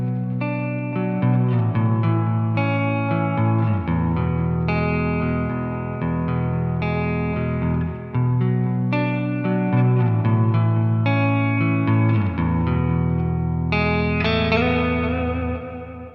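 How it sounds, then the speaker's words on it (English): Clean electric guitar on a single-coil pickup through an amp, playing flowing chords and picked lines with a bright, slightly chorused and reverberant tone, steady and full throughout with no talking. "let me switch to my single coil and play something a little more clean here"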